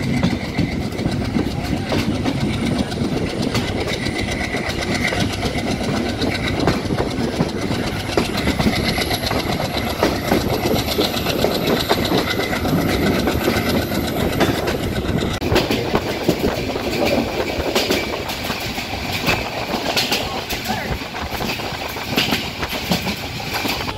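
An intercity train runs along the rails with a continuous loud rumble and a rapid, regular clickety-clack of wheels over the joints, close by and unbroken throughout, with no talk.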